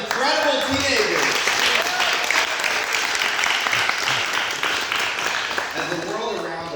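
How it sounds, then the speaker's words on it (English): An audience at a Maimonides ceremony in the Palm Beach synagogue gives sustained, dense applause. A voice can be heard briefly at the start and again near the end. "giving a round of applause to all the incredible teenagers"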